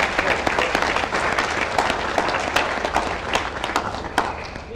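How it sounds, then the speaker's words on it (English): A lecture hall audience breaks into loud, close applause, many hands clapping in a thick continuous wash that holds steady throughout. "can give him another round of applause"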